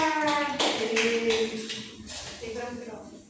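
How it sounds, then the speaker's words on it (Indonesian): A class clapping hands in a micro-teaching session, a few sparse claps mixed with voices and taps, fairly close and short. "Tepuk tangan dulu untuk kelompok yang bersama."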